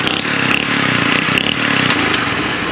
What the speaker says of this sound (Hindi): जैसे ही वो स्टार्ट करते हैं, गियर लगाते हैं, ऑटोमेटिक मोटरसाइकिल बंद हो रहा है